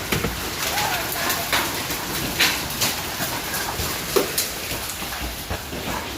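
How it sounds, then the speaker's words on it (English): Hailstones pelting parked cars during an early-November hailstorm, a constant dense rattle with scattered sharper impacts standing out, heard from indoors at a steady moderate level. "We're gonna have some hail damage."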